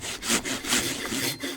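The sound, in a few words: sawing standing dead hardwood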